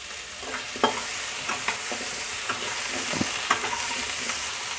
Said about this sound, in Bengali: এখন শুধু আলুটা ভাজার জন্য আমি নুন আর হলদি পাউডার দিয়ে দিচ্ছি